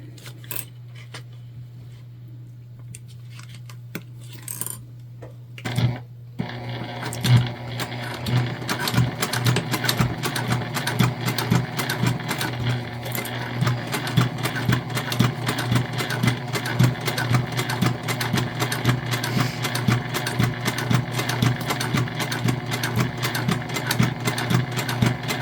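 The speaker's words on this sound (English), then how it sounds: "then we're just going to top stitch around this whole thing" A sewing machine top-stitches around a fabric gift bag: after a few seconds of low hum, it runs in a fast, steady, close mechanical chatter that lasts to the end.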